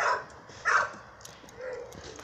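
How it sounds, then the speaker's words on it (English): A mother dog barks outdoors in the rain, three short yapping barks spaced roughly a second apart at moderate distance, with no talk over them. "And their mama's over there barking."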